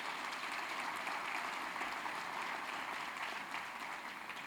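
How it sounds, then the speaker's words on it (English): Audience applause at a World AIDS Day event held by New York's governor, a steady wash of clapping filling the room throughout without pause. "Let's give them a round of applause."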